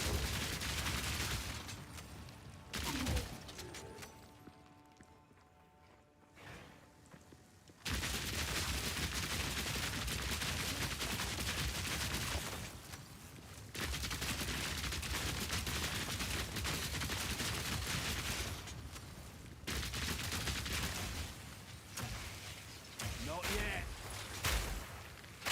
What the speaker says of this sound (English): Boosted grenades feel so good.